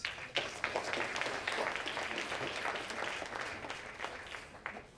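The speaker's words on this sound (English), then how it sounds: "So clap yourselves for that." Audience at an awards ceremony honouring Jamaican excellence claps steadily and loudly throughout, a dense sustained round of applause with a few sharper individual claps standing out.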